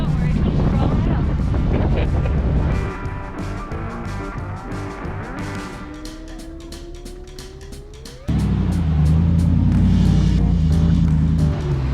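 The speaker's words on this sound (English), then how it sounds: "if you can hear, it's really windy, guys" Strong gusty wind buffets the microphone outdoors beside an off-road Hemi Jeep, a loud broadband roar that dips in the middle and surges back hard, with a rising engine whine passing through.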